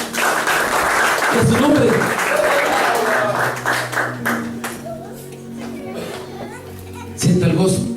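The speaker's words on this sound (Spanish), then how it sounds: "Denle un aplauso al Señor." Church congregation clapping and applauding during a sermon, lively and continuous with voices and children mixed in, fading slightly before a fresh burst near the end.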